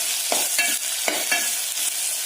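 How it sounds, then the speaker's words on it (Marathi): Chopped onion fries in hot oil for a dried-shrimp dish, with a steady sizzle and four or five quick scraping stirs of a spoon against the pan. "तो आपल्याला तेलामध्ये चांगला खरपूस असा भाजून घ्यायचा आहे।"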